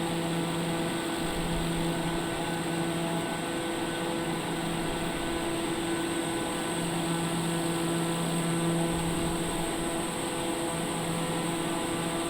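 Cabin drone of a TBM 930 turboprop aircraft cruising over Napa Valley: a steady, loud engine and propeller hum with constant tonal whines that holds unchanged throughout.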